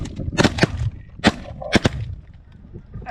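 Shotguns fire on a rainy-day goose hunt in a ragged volley of loud, close blasts, several in quick pairs, followed by quieter outdoor sound.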